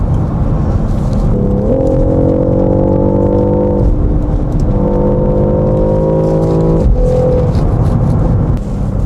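A BMW XM50e driving at speed, its engine droning under steady road and wind rumble inside the cabin, with rising whining tones that step up through gear changes; loud and continuous, no talking.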